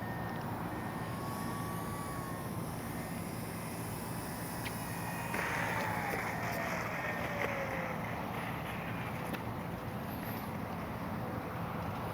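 An X-Fly Spitfire RC warbird drones steadily overhead in flight, its engine a constant, fairly distant hum that holds even throughout with faint pitch shifts as it passes, with no talk.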